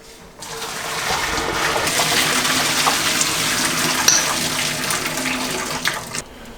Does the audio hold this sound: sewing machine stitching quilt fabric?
no